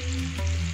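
Stuffed karela (bitter gourd) frying in a pan, a steady close sizzle with a low hum underneath, continuous and unbroken for under a second with no voices.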